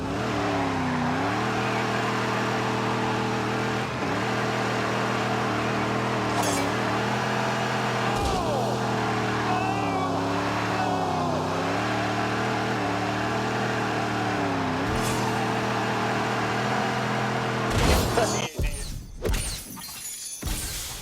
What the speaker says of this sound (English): forgotten the key when you're donutting in a Detroit theatre that's been turned into a multi-storey car park